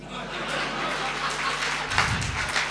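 Audience applause mixed with chuckles fills a comedy poetry show by Mahendra Ajnabi, a steady crowd wash rising briefly near the end.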